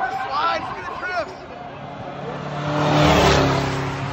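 Race cars at the Freedom 500 slide and drift through the track infield, their engines roaring loudly with a rising surge near the end, under a crowd's babble and a voice.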